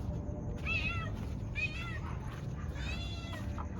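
A cat meows three times in a steady series of drawn-out calls, close by and fairly loud, against a constant low outdoor rumble, with no speech.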